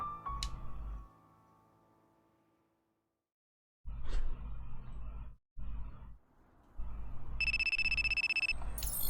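A telephone rings in bursts, opening with a short electronic tone followed by repeated ringing segments separated by gaps, ending in a steady bright trill; moderately loud, with no talking.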